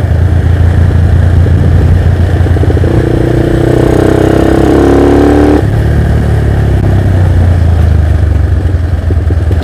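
A Yamaha LC motorcycle tuned to 177cc with a TZM carburetor idles loudly and close up, a steady mid-pitched engine drone with a brief rise in revs partway through before settling back to idle.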